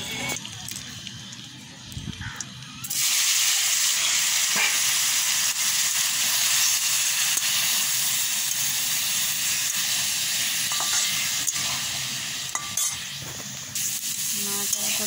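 Boiled cauliflower frying in a pan with stirring, a loud steady hiss and sizzle that jumps up after a quieter start near three seconds and carries on with occasional scraping knocks.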